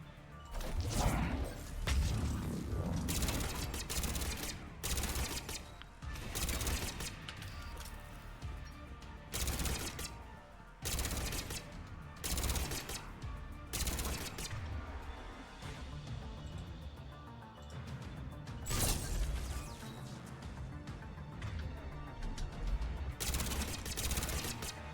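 The Shuriken weapon in Mass Effect 3 fires in repeated short bursts of rapid shots, spaced by brief pauses over a long stretch, rather faint and without talk.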